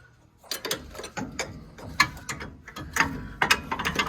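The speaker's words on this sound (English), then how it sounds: "I'm just going to tap this bolt out" Metal tapping as a bolt is driven out of a Jeep Wrangler TJ upper control arm at the axle bushing, a series of sharp, irregular clinks and knocks, close and moderately loud, with no talk.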